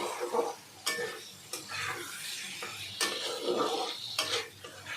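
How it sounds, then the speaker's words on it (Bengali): Lote (Bombay duck) fish being stirred into cooked spice masala in a pan, a spoon scraping and clinking against the metal in repeated strokes over a soft background sizzle, close and moderately loud with no voices. "এবার আমি মাছ দিয়ে দেবো আমি একটু নাড়াচাড়া করে"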